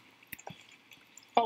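Water drips and trickles in Minecraft Bedwars: a few faint, scattered drops and soft splashes over a quiet background, ending in a slightly louder wet splash.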